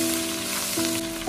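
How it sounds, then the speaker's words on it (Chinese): Ginger, garlic and minced pickled mustard greens stir-fried in hot oil in a wok alongside pan-fried fish bones, giving a steady close sizzling hiss with a faint low hum throughout. "鱼骨煎好之后，把姜蒜片和刚才剁好的酸菜末加入进来，用锅铲翻炒一下，炒出它们的香味。"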